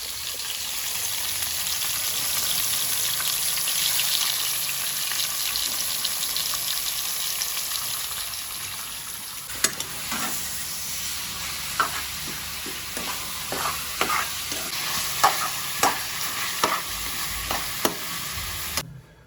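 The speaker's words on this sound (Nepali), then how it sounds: "ल गाइस, मासु पकाउँदैछ।" Pork sizzles steadily in a hot pan for a dal bhat meal, a continuous frying hiss with sharper pops and stirring scrapes coming through more often in the later half.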